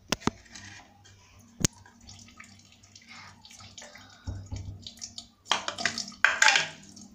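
Water running down a drain, with scattered drips and small splashes that swell into louder gurgling bursts toward the end.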